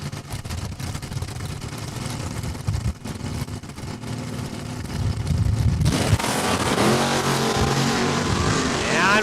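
Drag race cars launching at Saskatchewan International Raceway, a steady loud engine roar that jumps to a harsher, fuller blast midway as the cars pull away, with a commentator's voice over it.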